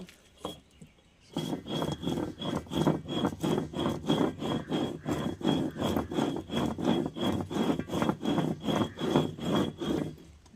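Green chili and ginger ground by hand on a grinding stone, a slow, even rhythm of repeated rough rubbing strokes about twice a second, close and fairly quiet, with no voices.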